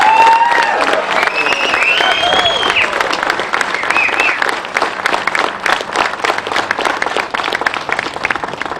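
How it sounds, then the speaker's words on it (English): A crowd at the debut of a battery-electric bus claps in loud, dense applause at close range, with a few cheers and whistles over the top early on before the clapping settles into a steady patter. "please join me in a round of applause to really thank Frank for his vision"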